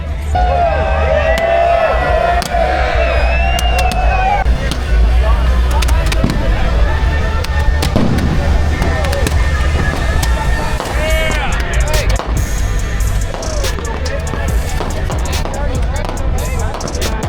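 Fireworks going off at a crowded outdoor party, a steady loud roar of crackle and bursts mixed with crowd babble and voices, with whistling rising tones early on and sharp pops scattered throughout.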